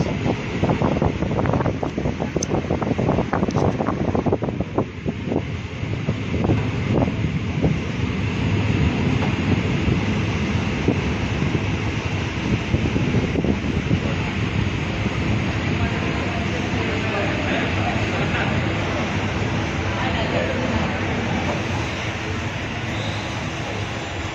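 A passenger train runs near Sonpur railway station on the way to Balangir, giving a steady, loud rumble of wheels and carriage noise with heavy wind buffeting that goes on without a break.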